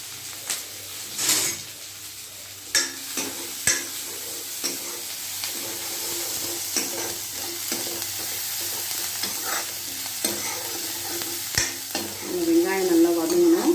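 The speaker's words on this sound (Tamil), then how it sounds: "இப்போ நான் வெங்காயம் போட்டு நல்லா சாட்டேஜ் பண்ண போகிறேன்" Onions sautéing in a little oil in a pan, a steady sizzle broken by frequent spatula stirs and knocks against the pan, with a louder scraping burst near the end, close and unvoiced.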